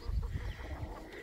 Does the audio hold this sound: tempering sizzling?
no